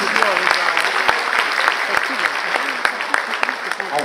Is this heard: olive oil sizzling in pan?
no